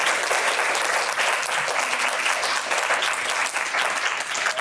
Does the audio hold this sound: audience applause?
yes